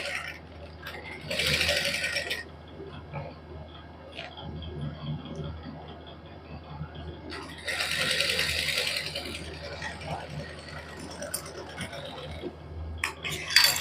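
A sewing machine runs a final stitch along the folded edge of a suit made of chikan-work fabric with fine lace. It whirs in two bursts, each a couple of seconds long, separated by quieter handling and rustling.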